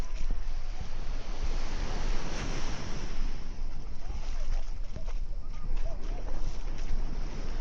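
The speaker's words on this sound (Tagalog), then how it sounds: "Medyo malakas na yung alon." Rough, continuous surf and wash of ocean water at Casapsapan Beach, Casiguran, Aurora, mixed with heavy wind buffeting the microphone, close and loud throughout.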